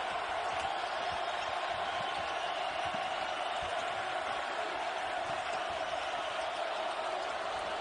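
Steady roar of a packed basketball arena crowd at a college game, Iowa State against Iowa, a continuous dense wash of cheering and noise with no break.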